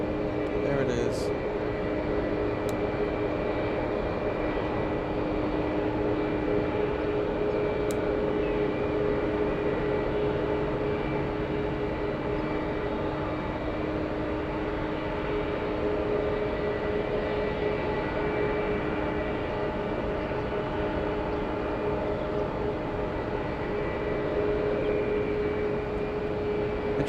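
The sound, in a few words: airplane on landing approach at SFO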